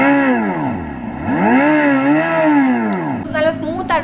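A Revolt RV400 electric motorcycle revving with a rising and falling electric-motor whine that swoops up and down in smooth arcs and stays prominent, followed by a brief clatter at the end.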